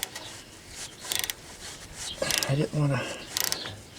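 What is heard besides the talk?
socket wrench ratcheting on car engine bolt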